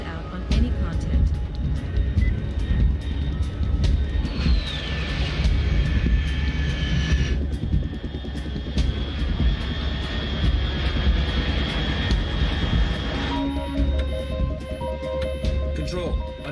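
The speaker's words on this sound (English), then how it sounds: "Unidentified aircraft detected." A fast jet aircraft in Metal Gear Solid 3 roars steadily overhead at high altitude, a continuous loud engine drone with a rising whine, layered under game music and a radio voice speaking.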